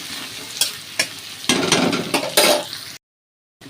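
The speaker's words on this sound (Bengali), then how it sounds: "আমার পেঁয়াজ, রসুন, শুকনো লঙ্কা আমার খুব ভালো করে ভাজা হয়ে গেছে।" Onion, garlic and dried chilli frying in oil, a bright sizzle punctuated by spatula stirring scrapes and bursts, growing busier before cutting off abruptly into silence.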